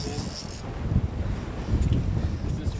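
Wind buffeting a microphone on a salmon fishing boat off Vancouver Island, gusty low rumbling in uneven bursts, with a brief whistly tone at the start and faint voices in the background.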